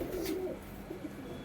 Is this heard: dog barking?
no